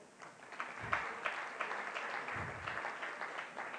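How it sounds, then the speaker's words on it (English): Audience at a homeopathy regulation conference claps together, a soft, fairly distant patter of many hands sustained evenly throughout with a few louder claps standing out. "Let's clap for all of us."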